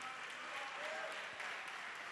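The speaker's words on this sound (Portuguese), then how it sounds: "Vamos aplaudir mais, vamos aplaudir mais" Faint, steady applause from a church congregation, an even wash of many hands clapping at a distance, continuous and unbroken for a couple of seconds.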